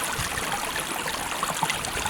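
Water from a small stream trickles and gurgles steadily nearby on a rainy winter wild camp, a continuous low babble with no voices.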